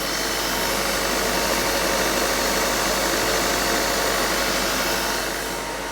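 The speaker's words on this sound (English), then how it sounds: "The engine speed at the moment is around 1500 RPM." Vehicle engine held at around 1500 RPM during a BG Products DPF and emissions cleaning service, a steady, loud, continuous drone with broadband hiss that stays constant throughout before easing slightly at the end.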